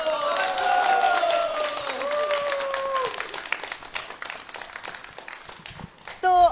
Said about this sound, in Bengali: সবাই মিলে যদি একটু জোরে করতালি এবং শুভেচ্ছা দেন